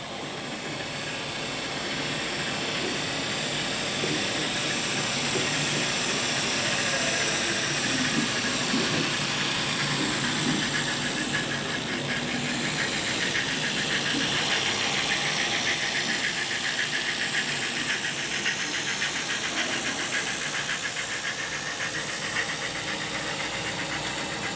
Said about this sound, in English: I picked up a block of empty ore cars with this interesting little Shea or Climax engine at one of the mines